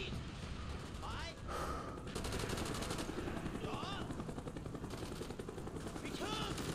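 Enemy gunfire in Call of Duty Black Ops, in a Vietnam jungle war setting: loud, sustained rapid automatic fire and bursts over a droning helicopter-like rumble, with gasps and a voice in the mix.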